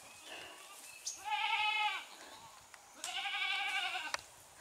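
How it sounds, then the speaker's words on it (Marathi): A goat bleats twice in a Konkan village setting, each call a drawn-out wavering cry lasting about a second, fairly close. Faint background noise and a brief sharp tap fill the gaps. "ही बकरी आहे ना जांगल्याला बोलावते"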